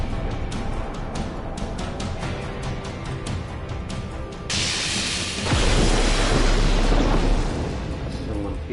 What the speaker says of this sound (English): This is a very big explosion.